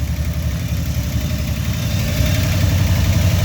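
A Buick 455 Stage-1 V8 in a Regal runs steadily, a loud, close, continuous low rumble with an even throb and no voices.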